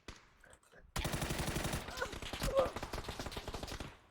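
Automatic gunfire in the PUBG battle royale game: loud, rapid bursts of shots rattling for about three seconds after a quiet start, with brief talk nearby.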